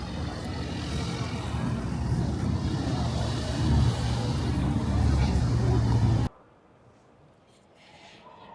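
Road traffic on Beach Road by the sea rumbles and rushes steadily past, then cuts abruptly to a much quieter background near the end.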